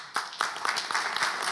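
Scattered clapping from a small audience at the close of a radio scriptwriting class, sparse uneven claps that thicken into light applause, fairly quiet and close.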